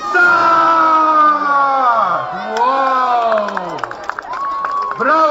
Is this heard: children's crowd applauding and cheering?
yes